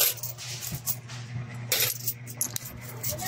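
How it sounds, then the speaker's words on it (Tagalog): Coins from a freshly opened piggy bank, mostly 20-peso pieces mixed with others, spill and clink continuously, with metallic jingling bursts throughout over a steady low hum. "puro tagbe 20 na barya"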